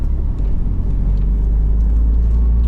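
Porsche Cayman S engine heard from inside while driving, a loud, steady low rumble of the motor at cruising speed with no talk over it.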